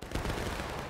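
Musket volley from a line of infantry in the Civil War battle game War of Rights, on the Bolivar Heights map: a dense, rolling burst of overlapping shots, loud and continuous, lasting under a second.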